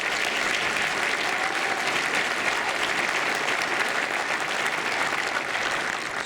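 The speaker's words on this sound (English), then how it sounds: "let's have another round of applause for all 12 of these wonderful projects" Sustained, even applause from a large audience at an annual meeting, filling the room with steady, loud clapping for the twelve recognized projects and no break in the sound.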